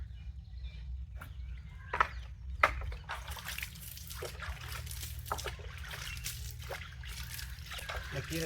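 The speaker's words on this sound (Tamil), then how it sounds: "தண்ணி தெளிச்சு விடணும்" Water is sprinkled lightly by hand over freshly sown amaranth (thandu keerai) seeds in soil, making a soft, continuous patter and trickle that becomes denser after the first few seconds, with a low steady hum underneath.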